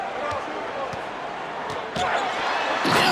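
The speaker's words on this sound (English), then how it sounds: "And then Jordan slams it in." A slam dunk in a basketball video game, the 1988 All-Star Game, lands as a few sharp thuds and bounces against a steady crowd roar that swells toward the end.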